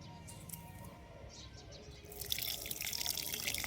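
After a quiet stretch, water is poured onto a holy basil plant in a soft, close splashing trickle that continues to the end.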